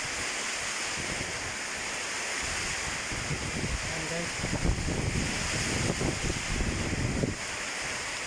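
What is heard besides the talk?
heavy rain and strong wind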